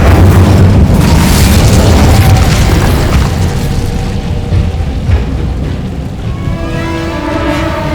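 A loud fire-spell blast from the Hogwarts Legacy game opens with a booming, explosive burst and then rumbles and crackles steadily for several seconds, fading slightly as faint tonal effects rise near the end.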